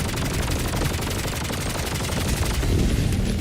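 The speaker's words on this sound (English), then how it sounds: "Stop shooting your fucking artillery at me." Rapid, dense gunfire and blasts in a video game barrage fill the clip, loud and continuous, with no talking.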